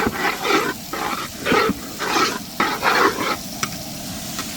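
Beetroot and onion sautéing in oil, a steady sizzle with rhythmic, fairly close stirring strokes that scrape through the pan at regular intervals.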